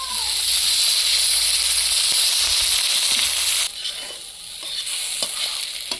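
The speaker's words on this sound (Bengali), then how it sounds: "বেরোস্তার জন্য পেঁয়াজ ভেজে নিই" Onions frying in hot oil for chicken biryani give a steady, loud sizzle that softens after about four seconds, with occasional stirring clicks and no talking.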